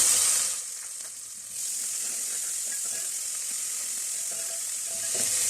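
Garlic and ginger paste sizzles loudly in a pan of frying onions for a chicken shami kebab, a dense continuous hiss that dips briefly and then surges back, with no voices.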